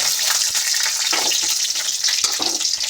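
Dried red chillies fry in hot oil in a pan, a loud continuous sizzle broken by scraping stirs, close up and with no talk.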